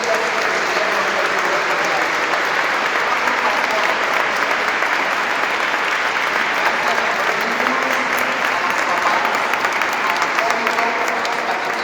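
Church congregation at a parish First Communion celebration breaking into loud, continuous applause, dense and even from start to finish, with faint voices mixed underneath.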